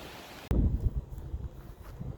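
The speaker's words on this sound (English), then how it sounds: "hopefully you can hear me because it is a little windy today" Gusty wind buffets an open farm field in autumn, a sudden loud rumbling burst that stays low and blustery, rising and falling in uneven surges close on the microphone.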